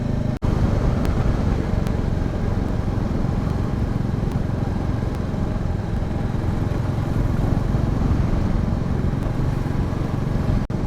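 A Royal Enfield Classic 350 Chrome Bronze 2024 motorcycle is ridden, with a steady, loud low engine rumble mixed with wind and road noise throughout. No one speaks.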